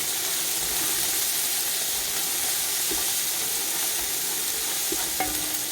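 Onions frying in a pan with coriander and mint for mutton biryani give a loud, constant sizzle and hiss, with a few faint clinks of a stirring spoon near the end and no talking.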